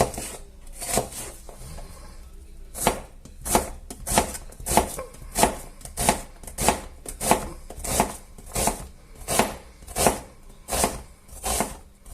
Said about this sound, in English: I'm going to start off by cutting half of this medium-sized onion and just going to chop it up in small pieces